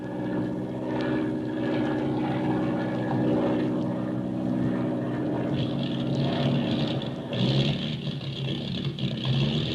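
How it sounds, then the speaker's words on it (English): Propeller airplane engine droning over the ocean with motor trouble, a steady rough hum whose tone wavers and sputters unevenly toward the end, heard alone without talk. "We've got motor trouble."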